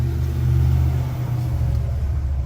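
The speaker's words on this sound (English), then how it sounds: "I just wanted to start the car and give it a not too many revs" A 1999 Honda Civic coupe engine idling with a couple of light blips of the throttle, a close, deep rumble that swells briefly and settles back.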